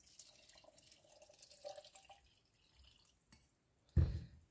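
Water poured out while a homemade lemon drink is prepared, a short, fairly loud splash near the end after a stretch of faint background.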